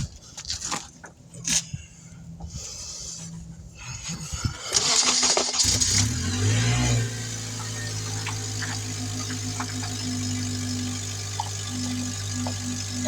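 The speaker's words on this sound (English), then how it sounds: "Start the car and turn the wheels all the way this direction." A 2005 Honda Accord is started after some nearby clanks and handling noises, cranking briefly before settling into a steady, even idle that hums on close by.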